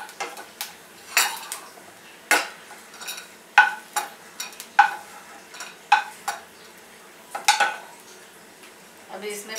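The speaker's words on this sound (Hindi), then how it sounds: "भून लेते हैं, थोड़ा तेल डाला है।" Dry coconut roasts in a little oil in a pan for Maharashtrian masala rice, with a spatula scraping and clinking against the pan in irregular, distinct strokes over a faint fry.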